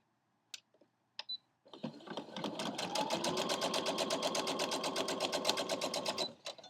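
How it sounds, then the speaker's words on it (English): A sewing machine stitches quilt fabric along a marked line, starting after a couple of faint clicks and running as a fast, even mechanical rattle for about four seconds before stopping, close and alone. "So take it over to your machine and sew."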